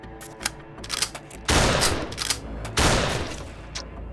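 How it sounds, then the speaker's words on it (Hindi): Gunshots sound in a narrow back lane, with two heavy loud blasts standing out among a scatter of sharper cracks and pops, each blast trailing off over about a second. "2-3 गोलियां चलने की आवाज़ भी आई।"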